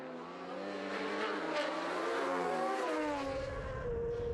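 A twin-cylinder racing motorcycle screams along the road course at the North West 200, its engine note rising and shifting as it passes, loud and sustained with a rough, throaty edge.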